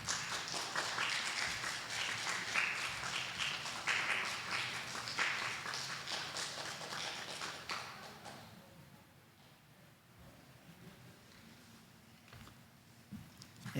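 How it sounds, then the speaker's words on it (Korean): Applause in a church service during a flower and gift presentation, a steady wash of clapping for about eight seconds that then dies down to quiet room tone. "꽃다발 주시고 선물 드릴 때 박수 부탁드립니다"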